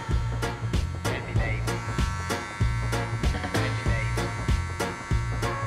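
Hair clippers with the taper lever fully open buzz steadily and close up while the corner of the blade blends a line in a modern pixie cut, with regular clicking pulses over the hum.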